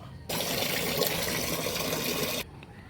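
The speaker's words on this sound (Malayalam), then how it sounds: "കുറച്ചും കൂടെ വെള്ളം നമുക്കിതിൽ ആഡ് ചെയ്ത് കൊടുക്കാം" Water is poured into a creamy cow dung fertilizer mixture for chilli plants, a steady close splashing pour lasting about two seconds before stopping, with quiet on either side.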